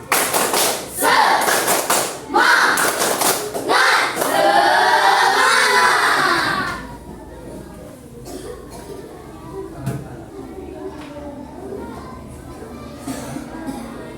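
A group of fifth-grade children claps loudly in quick rhythmic bursts in a classroom for several seconds, then the clapping stops and quieter voices and taps follow.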